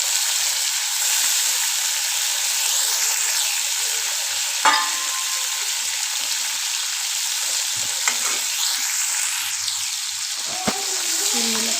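Prawns sizzle steadily in a hot pan of oil while being fried for a prawn malai curry, with a continuous dense hiss and a few soft clinks from turning the pieces over.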